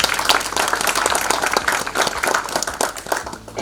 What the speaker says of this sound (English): I want all of you to clap for yourself also once.